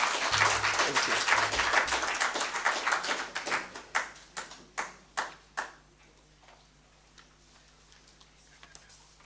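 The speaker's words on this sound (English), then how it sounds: "Another round of applause." Audience applause at a regional conference: a full burst of many hands clapping that thins into scattered individual claps, which slow and fade out to near silence in the second half.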